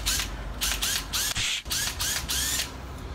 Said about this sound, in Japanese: 例えばこういうドライバー、インパクトドライバーで